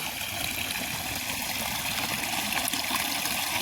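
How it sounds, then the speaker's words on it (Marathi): Water flowing steadily near a village temple, a continuous broadband rush with no pauses, fairly close and filling the whole clip, with no speech. "काय आवाज आहे पाण्याचा"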